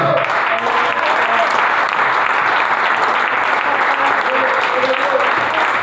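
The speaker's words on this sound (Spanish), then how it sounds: "Da un aplauso al Señor." Church congregation at a Spanish-language Pentecostal service applauding, a full continuous wash of clapping with some voices mixed in, loud and sustained throughout.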